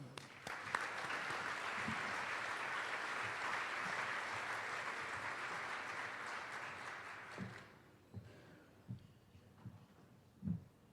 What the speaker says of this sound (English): if you will all join me in a warm round of applause